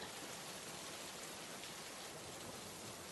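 Steady rain falling, a dense even hiss of drops on surfaces, constant and soft throughout with no voices.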